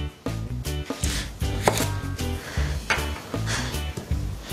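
A knife chopping half an onion into thin strips on a cutting board, steady rapid close knocks in an even rhythm with no talk.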